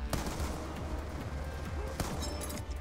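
Gunfire from a weapon in Call of Duty: Black Ops 2, dense crackling shots with a few sharper reports at the start and near the end, sitting inside a constant loud rumble of game sound.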